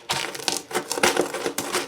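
Gingersnap cookies are crushed under a used peanut butter jar, giving loud, close crunching bursts in quick irregular strokes with brief pauses between.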